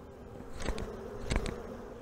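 Honeybees at an opened Langstroth hive hum in a steady, quiet drone, with a couple of brief louder buzzes as bees pass close by.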